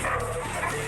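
Wolves growl and snarl while attacking a bear, a short, loud burst of rough canine vocal noise.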